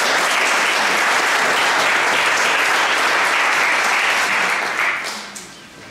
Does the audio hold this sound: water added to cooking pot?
no